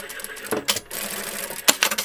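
A sewing machine stitches a security seam on a quilted zipped clutch bag, short bursts of rapid mechanical whirring with pauses between, close and clear.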